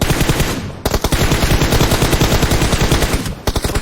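Automatic gunfire in PUBG Mobile, a loud, close, rapid stream of shots with only a brief gap near the start and another near the end.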